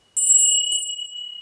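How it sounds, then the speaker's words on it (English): A small altar bell is rung for a devotion to Freya, giving a single bright metallic strike with a few quick tinkles and a clear sustained ring that slowly fades, close and alone. "Goddess Freya, and ring the bell."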